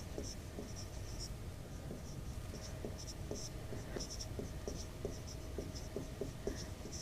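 Chalk or marker scratching across a board while a math problem is worked out in a classroom, short strokes tapping and scraping in a steady irregular rhythm, faint and close under quiet room noise.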